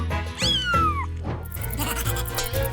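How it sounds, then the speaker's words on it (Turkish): A cat meows several times in quick succession, clear and close, with rising and falling drawn-out cries, over faint background music. "Ah, kediciğim."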